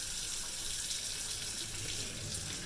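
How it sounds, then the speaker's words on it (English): A tap runs steadily into a kitchen sink while hands are washed, a close, even hiss of water with no talking. "Wash my hands."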